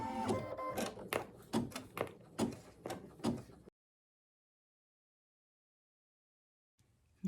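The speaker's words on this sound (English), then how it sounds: "I'm going to run step #1, which will be sort of an outline or a placement stitch." Embroidery machine running a placement outline stitch, a rapid series of loud mechanical clacks and thumps for a few seconds, then stopping into silence.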